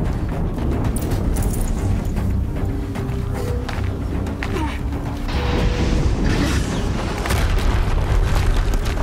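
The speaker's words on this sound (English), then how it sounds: "Explosion." In Horizon Zero Dawn, a loud rumbling blast rolls through a dense wall of game noise, with heavy low booming and crackling debris that stays sustained rather than fading quickly.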